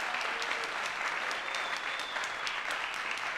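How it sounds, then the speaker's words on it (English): At the First Nations Arts Awards ceremony, the audience gives an honoree a steady round of applause, many hands clapping evenly throughout at moderate loudness, with a few faint whoops. "Give him another round of applause."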